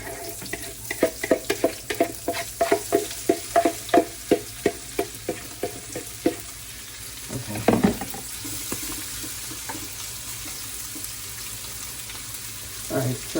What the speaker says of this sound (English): Now, you hear the nice sizzle.